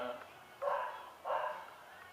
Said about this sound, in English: I don't know if you can hear that dog, but it's really annoying.